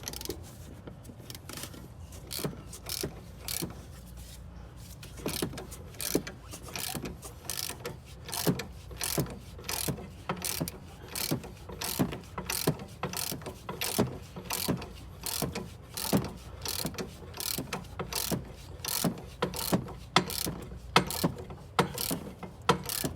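A ratchet clicks steadily and rhythmically while tightening a bolt on a Dodge Charger camber kit, with close, crisp repeated clicks and a few brief pauses across the whole stretch.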